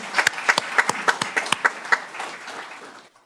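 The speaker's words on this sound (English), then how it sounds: "Yes, let's give it a round of applause" Applause from a small audience at a Daly City city council meeting: a short burst of brisk, fairly close clapping that thins out and fades to quiet.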